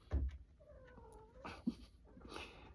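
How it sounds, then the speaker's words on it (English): A house cat makes brief thumps and a short meow-like call indoors, fairly faint. "that noise was just my cat running"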